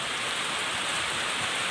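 Rain falls steadily and evenly, a dense continuous hiss of drops close by, with no voices or other sounds.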